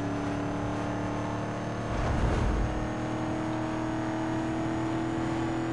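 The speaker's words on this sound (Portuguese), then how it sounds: "porque o ronco dele é muito imponente, né?" Ford Mustang engine roaring in Need for Speed Most Wanted, a steady loud drone that surges briefly around two seconds, then holds.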